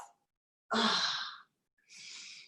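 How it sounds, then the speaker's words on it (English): A person lets out a long, breathy sighing yawn while stretching the whole body, close and clear, followed by a shorter, softer exhale after a brief silence. "give yourself a full body yawn out from center"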